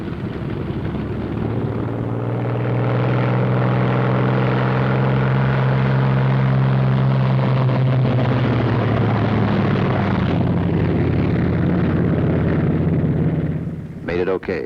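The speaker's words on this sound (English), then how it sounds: "First pair off. Second pair taxis out." Several piston-engine fighter planes rumble steadily close by as one pair takes off and another taxis out on an airfield, a loud continuous drone with rising and falling tones throughout.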